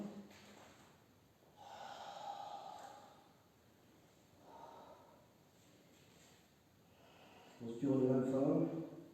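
A person holding a yoga downward dog pose breathes slowly and audibly, with soft drawn-out breaths spaced a few seconds apart and a louder, more forceful exhale at the end.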